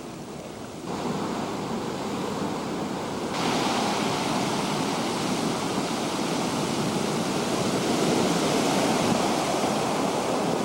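Ocean waves at high tide on Pescadero Beach make a continuous, loud wash of surf that swells slightly as it goes, with no voices over it.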